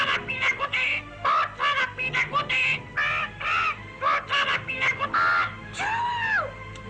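A cartoon parrot squawks repeatedly in harsh, rasping calls, loud and close, in choppy bursts with short gaps between them.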